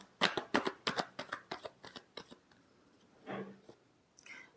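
A deck of tarot cards is shuffled close up, a quick run of crisp rhythmic riffling slaps that slows and stops, followed by two softer rustles, with no speech.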